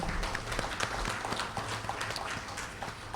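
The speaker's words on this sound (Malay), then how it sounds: "satu tepukan pada dia" Audience applause at a monthly assembly held by the Air Division of the Malaysian Fire and Rescue Department, honouring a team member; dense, steady clapping throughout with scattered sharper claps standing out.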